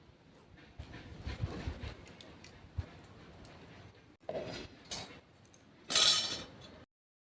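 A spoon scrapes and stirs through a pot of khichuri after jaggery goes in, soft irregular scraping with a few metallic clinks and a brief louder clatter near the end, close and without talk.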